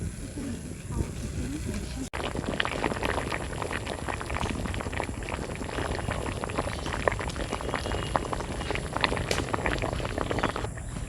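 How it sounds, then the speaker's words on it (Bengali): Water and mixed vegetables boil hard in a pot for chhyaka, a Rajbanshi dish, giving a close, steady, dense bubbling and popping that runs without a break, with one sharp click early on and no voices. "জলটা সবজির সাথে ফুটে গেছে"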